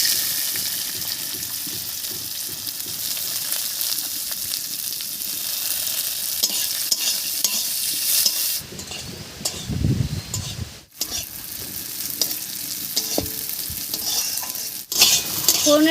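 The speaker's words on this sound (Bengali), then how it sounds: "ফোড়নের উপরে চালটা দিয়ে একটু ভাজা ভাজা করে নিয়েছি" Washed Gobindobhog rice fries over a whole-spice tempering in a pan, a loud continuous sizzle with constant stirring and scraping, easing briefly near the end before resuming close by, with no voices.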